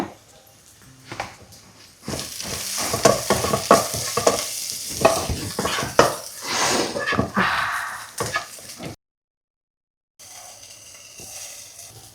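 Spoon stirring food frying in a pan with salt and chili powder, a close, steady sizzle with scraping strokes and clinks, ending in a short silence before a fainter sizzle returns.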